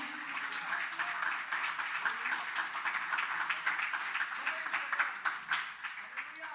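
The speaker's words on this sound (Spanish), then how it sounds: "Dele fuerte ese aplauso si es para Dios, amén." A church congregation claps during a sermon, a sustained, fairly even roll of many hands that swells slightly in spots, with a voice faintly present underneath.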